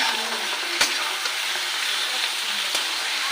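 Mutton fries steadily in a wok with a constant bright sizzle, broken by two sharp clinks of a spatula against the pan as it is stirred.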